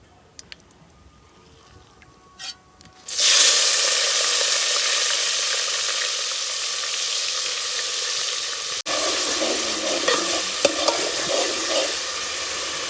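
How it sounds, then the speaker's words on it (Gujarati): Onion hits a hot frying pan with a sudden loud sizzle, then a sustained crackling fry as it is stirred, with scraping and bubbling spurts near the end after a few quiet clinks before. "હવે નાખી દઈએ ડુંગળી"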